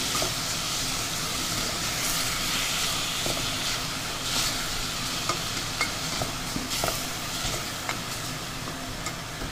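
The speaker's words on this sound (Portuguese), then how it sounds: "à medida que a gente vai fritando, ele vai soltando o sabor ali" Meat and garlic fry in olive oil in a pan, giving a constant bright sizzle and hiss with occasional scraping and stirring clicks, close and steady.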